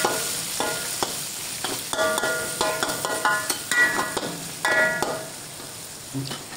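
Tomato and onion fry in hot oil on a high gas flame for a simple unspiced dish, giving a close sizzle broken by several clattering stirs and scrapes of a utensil against the pan.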